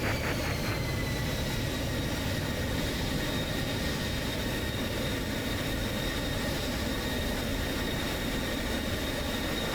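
A jet fighter engine in a flight simulator game spools down toward idle, giving a steady, loud broadband roar with a faint whine that slides slightly lower near the start.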